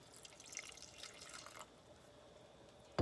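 One cup of milk is poured for a chicken pot pie filling, a soft trickling splash that fades after a second and a half, faint and close, ending in a sharp knock.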